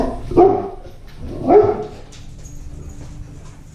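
Dogs bark at a passing truck, two loud close barks about a second apart, then fainter whimpering and low background noise as things settle.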